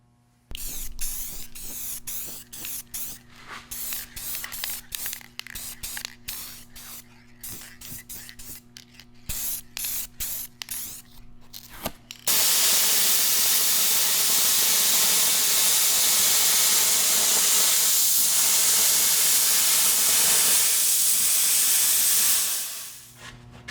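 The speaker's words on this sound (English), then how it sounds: "Welding on a lathe is not something that is recommended" Steel plate is tack welded onto a lathe to build a follow rest. Short crackling welding bursts with gaps come first, then a long, loud, continuous hissing arc that runs close by and stops abruptly near the end.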